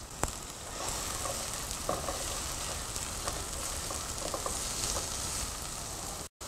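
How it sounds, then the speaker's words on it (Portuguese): Onion sautéing in hot olive oil in a pan, a steady close sizzle and crackle with occasional small pops and stirring ticks, continuing evenly throughout with no talking. "Vou colocar a cebola. E vamos deixar refogando até a cebola começar a ficar"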